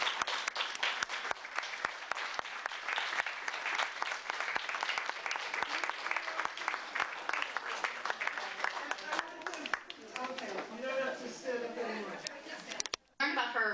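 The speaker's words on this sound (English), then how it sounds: "So I'd like to begin by having present and past honorees to stand up so we can applaud them" An audience at an evening honoree event breaks into sustained applause, a dense close wash of clapping that thins toward the end as scattered claps and a few voices come through.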